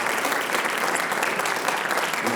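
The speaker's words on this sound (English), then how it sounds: "give me a round of applause, folks" Dense, steady audience applause at a school writers expo, with many hands clapping at an even level throughout and no gaps.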